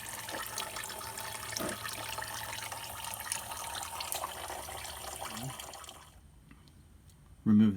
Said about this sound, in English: Drain the coolant